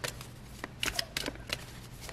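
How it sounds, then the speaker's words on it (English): Tarot cards being shuffled in quick riffling bursts, a few crisp flutters spaced out over a couple of seconds, close and fairly quiet. "You saw me shuffle."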